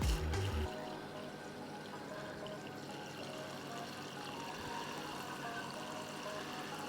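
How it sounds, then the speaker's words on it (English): Water poured into a container to rinse out leftover lawn product, a short steady splashing pour with no talk, fairly quiet and close. "I put a little bit of water in there."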